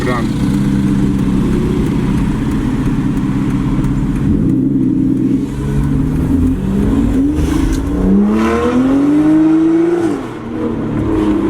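An Aston Martin Vanquish S Ultimate engine rumbles steadily and rises in pitch as it revs at about half its range, with people talking over it throughout.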